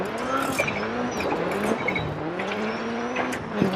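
A Subaru Impreza WRC2001 in DiRT 4 swings through a Scandinavian flick, its engine droning and shifting pitch as the tyres skid and scrabble on loose surface, close and continuous.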